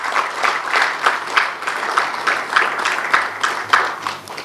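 A crowd at the grand opening ceremony of the Lovebird Society of Karachi applauds to welcome a speaker; the clapping is loud and close, swelling and easing in rhythmic pulses.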